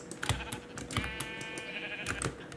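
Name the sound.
sheep bleating in Minecraft video game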